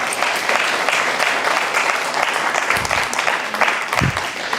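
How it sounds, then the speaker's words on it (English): An audience at a guide dog school graduation claps, a dense, steady applause that stays fairly loud and even from start to finish. "Let's give Marissa a round of applause as she comes up here."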